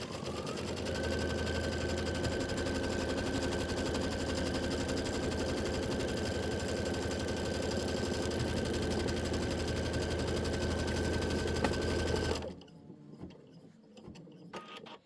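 An embroidery machine stitches out a quilt template with a loud, fast, steady mechanical chatter that runs for about twelve seconds and then stops abruptly, leaving faint room noise.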